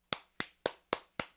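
A toy monkey claps five times in an even, quick rhythm, each sharp close clap ringing briefly before the next, with no voices.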